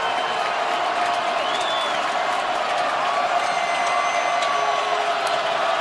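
Steady roaring stadium crowd noise fills an NFL football game between the Bengals and Ravens in Baltimore, a constant dense wash of cheering and whistles throughout.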